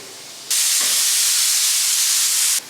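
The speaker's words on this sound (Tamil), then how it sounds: "இப்போ குக்கரில் விசிலும் வந்துருச்சு" A pressure cooker whistle lets off a loud, steady hiss of steam in a home kitchen while Chettinad chicken kulambu and tomato rasam are made, starting abruptly and holding for about two seconds before cutting off.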